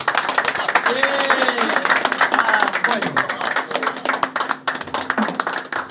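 Guests at an outdoor barbecue give former boxers a round of applause: dense, steady clapping from a small nearby crowd lasting several seconds, with voices and cheers mixed in.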